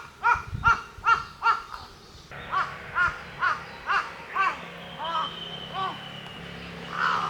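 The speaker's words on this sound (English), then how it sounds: "I hope those crows aren't hungry as I am." Crows caw along a hiking route near the Nunobiki waterfall in Kobe, Japan. A string of loud, harsh calls comes in a steady rhythm, first close and then slightly farther off, over faint outdoor background noise.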